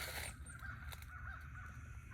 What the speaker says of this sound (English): You got a bunch of birds calling out.